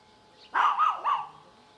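A dog on a rural villa property with an acre of garden near Carmona, Sevilla barks two or three times in quick succession at mid distance, loud against an otherwise quiet outdoor background.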